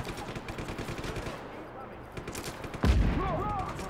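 Rapid gunfire in the open-world action game Just Cause 3, bursts of shots crackling through the first half, then a loud thump and continued firing under a speaking voice.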